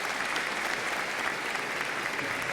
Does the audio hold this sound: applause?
yes